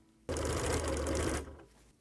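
Sewing machine stitching a quilted wall hanging, a loud steady mechanical whir of rapid stitches for about a second before slowing and stopping, close up.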